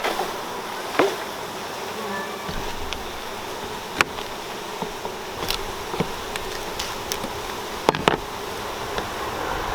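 A dense, steady hum of many honeybees buzzing close together in a shipping package, with scattered clicks and knocks breaking through the drone.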